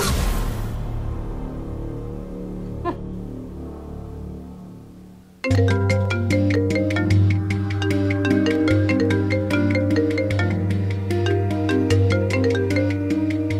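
After a fading musical passage, a phone ringtone starts abruptly and plays a repeating electronic melody, steady and fairly loud, with no talking.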